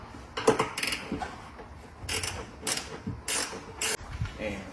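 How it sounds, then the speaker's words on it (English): Close, crisp bursts of clicking from a ratcheting wrench loosening a nut up inside the roof area of a 2021–2024 Ford Bronco 4-door, several short runs with brief pauses and a faint creak. "if it ratchets, it will make it a little easier to reach up in there"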